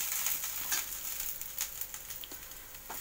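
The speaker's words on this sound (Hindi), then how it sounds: "अब इसको हम मीडियम स्लो आंच पर क्रिस्पी करने तक सेकेंगे" A besan cheela, a gram flour pancake, sizzles softly in a pan as butter is added around its edges, giving a faint, steady frying hiss with small pops.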